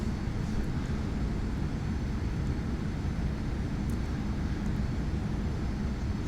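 Steady drone of a Carenado Premier 1A business jet's engines in a flight simulator, a constant dense roar with no change in level throughout.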